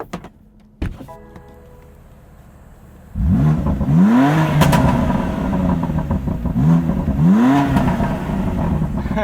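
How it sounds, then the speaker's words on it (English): A 2020 BMW M2 Competition is driven, with clicks and a quiet cabin before the engine note surges loudly, rising in pitch through two accelerating pulls with rumbling exhaust heard from inside the car. "And listen to this exhaust."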